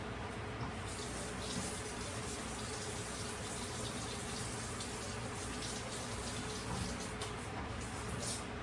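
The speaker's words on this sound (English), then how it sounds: "I just did a quick rinse, and it's pretty clean." Water from a kitchen sink tap runs in a steady, constant rush while a Ninja BlendBoss blender cup is rinsed, close and unbroken.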